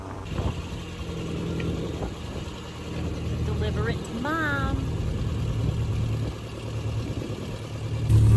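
An MG car's small engine idles steadily and fairly close for several seconds, with people talking excitedly over it.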